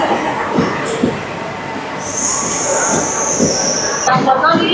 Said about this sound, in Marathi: मडगाव ही आलेली आहे ट्रेन.